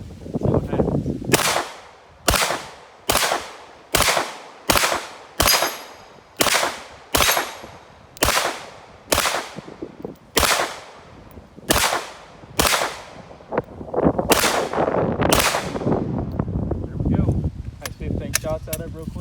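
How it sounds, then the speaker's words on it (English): A Glock 34 Gen 5 fires 9mm rounds at an AR500 steel hostage target, giving about fifteen sharp, loud reports in a steady rhythm, each followed by a short ring, then a rougher burst of noise near the end. "Let's take a few shots with some 9mm at it. This is a Glock 34 Gen 5."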